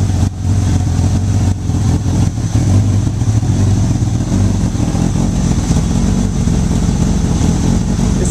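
A Honda Goldwing motorcycle engine converted to a single carburetor idles steadily with a low, even rumble, running close and continuous throughout.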